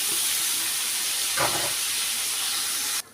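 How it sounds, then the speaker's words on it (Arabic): Washed, drained rice goes into a hot pan of fried vermicelli while making Egyptian koshari, giving a steady loud sizzling hiss that holds throughout and then cuts off sharply at the end. "هحط عليها الرز المغسول ومتصفي"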